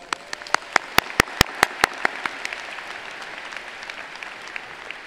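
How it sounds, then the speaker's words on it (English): At a university convocation for new students, a few loud, sharp individual claps ring out close by near the start, then thin into scattered, fainter clapping over a soft crowd background. "Give yourselves a round of applause."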